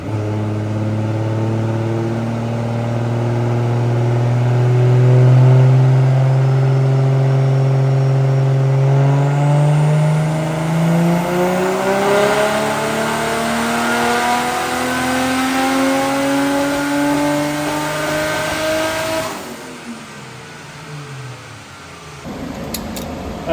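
A Toyota 1JZ-GTE VVT-i turbo engine in a Nissan Pulsar revs hard on a dyno, its pitch climbing steadily for nearly twenty seconds before cutting off sharply. The engine is loud and close, with no talking.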